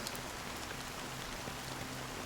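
Steady rain falling in the video game Honkai Star Rail, a soft, even hiss of drops at low level with a faint low hum beneath, no voices.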